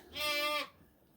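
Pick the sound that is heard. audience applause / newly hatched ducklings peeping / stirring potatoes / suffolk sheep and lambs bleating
suffolk sheep and lambs bleating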